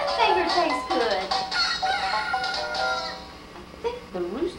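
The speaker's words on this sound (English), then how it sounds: "I think the rooster crowed." A rooster crows, its drawn-out call mixed with people talking nearby.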